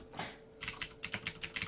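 Rapid typing on a computer keyboard, a steady run of close, crisp key clacks after a brief quieter start, with no talking.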